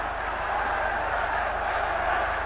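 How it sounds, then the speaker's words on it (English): A huge stadium crowd of Everton fans, some 52,500 strong, roars steadily in support during a 1985 derby against Liverpool, a dense unbroken wall of noise that holds at the same level throughout. "just listen now to the crowd roaring their support"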